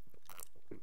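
A single quick, wet gulp from an OUYA video game, close and crunchy like swallowing or chewing, lasting under a second.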